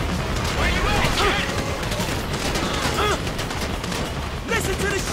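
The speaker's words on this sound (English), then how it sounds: "You hear that gunfire?" Gunfire during a bank robbery in Grand Theft Auto V: rapid bursts of shots and booms over a noisy, dense combat din, with voices shouting underneath.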